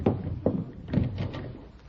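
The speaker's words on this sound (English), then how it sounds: "Hey, Daisy June, go see who's at the door." Door opening as a sound effect in an old-time radio comedy show, a few short knocks or thumps spread across the clip with faint room tone.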